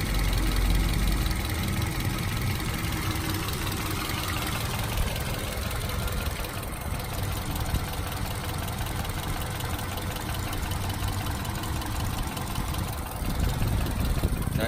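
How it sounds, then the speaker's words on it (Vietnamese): A 2012 Toyota Vios E with its engine idling, a steady, even, close mechanical hum that holds at a constant level throughout with no voices. "Máy nổ cực kỳ tròn tiếng luôn. Nổ không hề rung lắc này."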